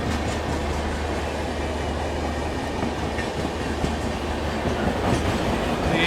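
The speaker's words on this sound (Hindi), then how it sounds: "ये हीराकुड एक्सप्रेस है विशाखापट्टनम अमृतसर" The Hirakud Express, running from Visakhapatnam to Amritsar, rumbles past steadily and close by, its wheels clattering over the rails in a continuous loud roar with a faint squeal near the end.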